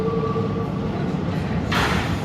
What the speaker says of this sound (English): So my train is coming.